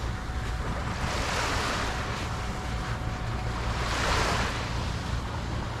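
Wake waves from a passing coast guard boat reaching a small fishing boat at sea, two broad swelling washes of water a couple of seconds apart over steady wind and surf noise, with no talking.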